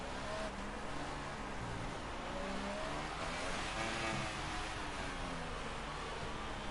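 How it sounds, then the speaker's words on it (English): Rally car engine revving hard against the rev limiter during a Mexico rally stage, a loud, continuous, buzzing roar with rapid stuttering pulses and wavering pitch, steady throughout. "Really aggressive on the rev limiter."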